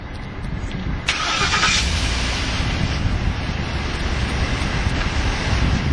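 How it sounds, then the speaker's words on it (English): A 2011 Ford F150 Lariat Limited pickup engine turns over and catches after about a second, then settles into a steady, fairly loud idle rumble that continues without talk. "let's go ahead and start the engine"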